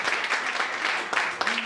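Steady applause from a crowd at a Labour Day celebration, dense clapping sustained for the whole moment without pause.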